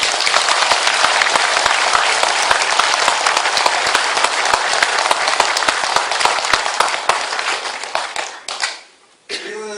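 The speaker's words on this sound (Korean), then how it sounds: "큰 박수를 부탁합니다" An audience at a security lecture event bursts into loud, sustained applause with dense clapping that fades out near the end, followed by a brief quieter moment.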